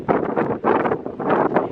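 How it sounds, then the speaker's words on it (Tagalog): Strong wind near a lobster fishing boat in Australia buffets the microphone in heavy, rumbling gusts that surge and ease in quick succession, loud and close. "Ang lakas ng hangin."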